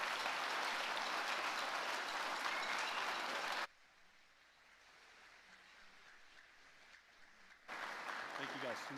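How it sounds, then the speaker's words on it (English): A school band concert audience applauds the senior class: a sustained wash of clapping that stops abruptly, leaves a quiet hall, then another burst of clapping starts again near the end. "One more round of applause for the senior class"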